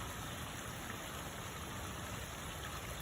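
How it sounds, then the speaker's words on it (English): Soft, steady flowing water murmurs evenly in the distance, a quiet unbroken wash of sound with no voices. "enjoy the beautiful peaceful sounds of the water and the birds."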